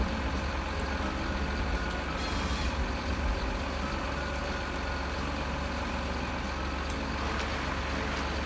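Tracked vehicle in a farming and forestry game set in rainy weather, its engine droning continuously at a low steady rumble throughout, fairly quiet and even with a brief rise in noise around the third second, no talk.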